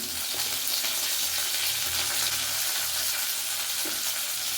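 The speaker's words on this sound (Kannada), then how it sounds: "ಇದಕ್ಕೆ ನಾನು ಇವಾಗ ಸ್ವಲ್ಪ ಕರ್ಬೇವಿನ ಸೊಪ್ಪನ್ನು ಹಾಕ್ಕೊಡ್ತೀನಿ" Curry leaves going into hot masala in a pan, a loud, dense, continuous sizzle and crackle heard close up with no voices over it.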